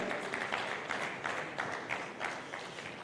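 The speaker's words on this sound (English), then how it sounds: "Ladies and gentlemen, with a round of applause, join me in welcoming incoming registrar, Pharmacist Ibrahim Babashew Ahmed." An audience at a pharmacists' annual conference and exhibition applauds in a continuous, fairly soft wash of clapping with slight rhythmic swells, heard from some distance in a large hall.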